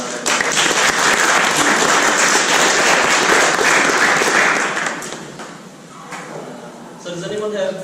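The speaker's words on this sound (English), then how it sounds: "So I just want to also give him a round of applause." An audience at an investment property training session breaks into dense, loud applause for about five seconds, then it fades into scattered claps and room noise.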